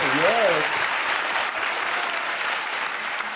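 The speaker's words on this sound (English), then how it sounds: "Please give our talent team another big round of applause." An audience at a peace festival gives a talent team a big round of applause, steady full-room clapping heard right after a brief spoken voice at the start.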